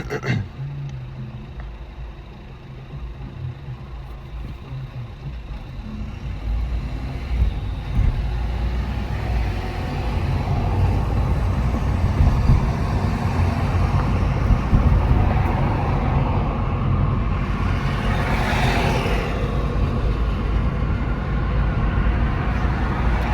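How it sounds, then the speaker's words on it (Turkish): A 2009 Audi A3 engine runs, heard from outside the car as a steady low rumble that swells slightly partway through, mixed with wind noise. "Ya motor sesi arkadaşlar bu arada hani çok yüksek devir çevirdiğinizde geliyor aşağıdan ufak ufak geliyor."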